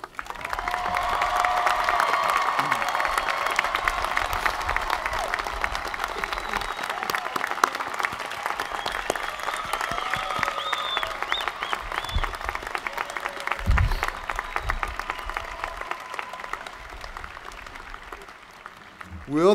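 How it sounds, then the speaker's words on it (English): A commencement audience applauds graduates in a steady, dense wash of clapping that carries on for the full stretch, with some cheering and murmured voices underneath, fading slightly toward the end. "Let's now recognize and applaud these graduates."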